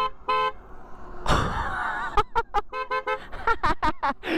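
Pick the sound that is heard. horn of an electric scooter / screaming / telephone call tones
horn of an electric scooter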